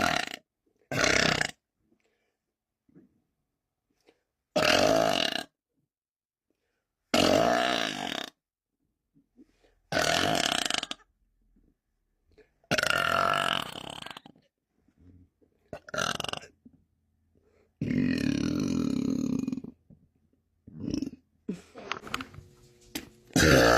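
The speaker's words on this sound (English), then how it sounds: "I can burp." A woman lets out a series of loud, deep burps close to the listener, about eight separate bursts spaced a few seconds apart with silence between, some long and drawn out, with no talking.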